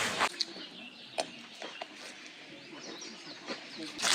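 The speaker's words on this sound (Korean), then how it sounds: "지금 새소리가 엄청 잘 들리는데요" Birds chirp and sing outdoors in a park-like spot with picnic tables, giving faint, scattered high calls over a steady background hiss.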